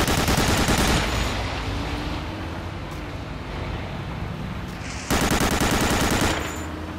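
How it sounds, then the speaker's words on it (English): Aircraft strafing machine-gun fire in the WWII shooter Medal of Honor: Allied Assault: a loud, rapid burst, then a quieter stretch of rumbling engine and ambience, then a second loud burst near the end. "It's coming back for a strafing run."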